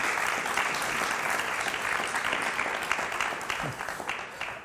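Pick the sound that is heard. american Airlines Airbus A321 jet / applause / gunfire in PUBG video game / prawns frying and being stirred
applause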